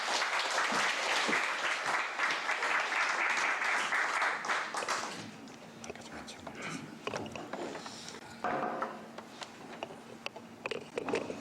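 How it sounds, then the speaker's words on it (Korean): Congregation applauding a pastor coming forward at a joint church worship service, a full dense burst of clapping that fades out after about five seconds, followed by scattered taps and murmuring. "우리 목사님 나오실 때 박수로 맞아주시기 바랍니다"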